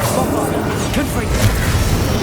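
A Bombarda blasting-spell explosion in Hogwarts Legacy, a heavy boom with a whooshing thud over the noisy din of a magical fight, with a shouting voice nearby.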